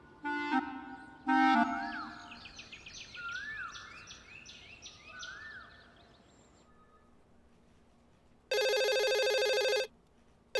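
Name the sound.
telephone ringing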